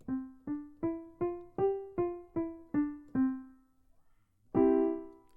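Short, detached piano notes step up and back down a five-note scale at an even pace, followed by a pause and one final held note.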